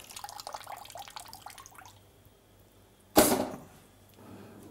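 Water pours into a pot of beef pot-au-feu in one short, loud splashing burst after some faint clinking, then settles into quiet.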